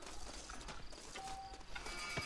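A horse's hooves clip-clop in the Western video game Red Dead Redemption, a quick uneven run of soft hoofbeats at moderate distance amid game ambience and a brief tone.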